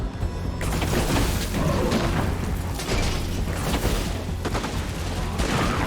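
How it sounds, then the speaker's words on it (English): A sniper tower fires in a video game during an endless-wave match. Dense overlapping gunfire and booming impacts run continuously, loud and cluttered, with no talking. "So the sniper tower is already starting to lay into him."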